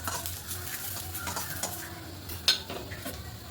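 Grated coconut roasted in a pan with steady scraping and stirring strokes of a metal spoon, a soft sizzle underneath and an occasional sharp clink against the pan.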